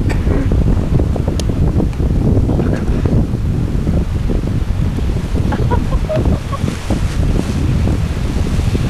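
Strong wind roars steadily across a hillside on a paragliding outing in Tayside, loud and close, buffeting the microphone in continuous low gusts with no clear voices.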